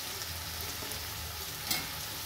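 Potatoes and softened tomato frying in a pan as capsicum goes in, a soft continuous sizzle with a light stirring scrape, close and fairly quiet, no talk.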